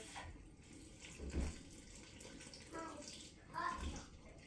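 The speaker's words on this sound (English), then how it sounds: "if it's too cold, I'll add more hot water" Hot water runs from a tap into a basin, a steady splashing flow with soft bumps and faint background voices.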